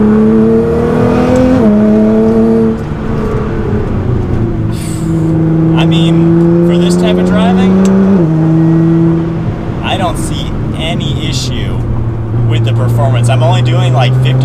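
Nissan GT-R driving on back roads, its engine droning loudly inside the cabin with pitch rising through gears and dropping at each shift, steady and close, with people talking over it.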